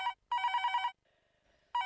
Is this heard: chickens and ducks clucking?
no